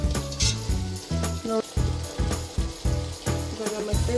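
Chopped tomatoes sizzle in an oiled pan for a chicken biryani while being stirred, giving a steady loud fry broken by repeated scraping strokes at a brisk rhythm.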